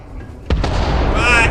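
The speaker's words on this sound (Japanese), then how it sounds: "じゃあ粉塵爆発が始まります。" A dust explosion goes off underground in a Martian mine in Starfield: a sudden loud boom, then a rolling, crackling rumble that holds strong to the end.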